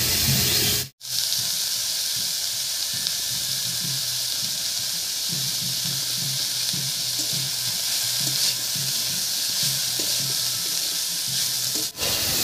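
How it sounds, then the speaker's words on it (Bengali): Fresh garden beans stir-frying in a pan with salt and turmeric, giving a steady, close sizzle and hiss that runs without a break, with a few soft stirring scrapes underneath. "লবণ আর হলুদ দিয়ে নাড়িয়ে নিয়েছি"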